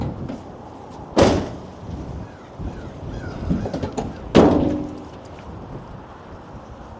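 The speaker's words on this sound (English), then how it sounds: "Let me close that door" Two solid door slams from a 2025 Ford Transit 350 HD high-top extended dually van, one near the start and another a few seconds later, each a sharp loud thud with a short rattle, over quiet room tone.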